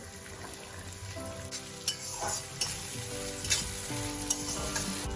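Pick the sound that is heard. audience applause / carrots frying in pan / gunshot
carrots frying in pan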